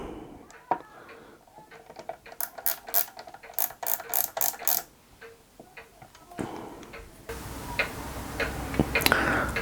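Micrometer ratchet thimble on a lathe-turned part clicking in quick runs of small, sharp ticks, close and fairly quiet, with pauses between runs and brief workshop noise near the end.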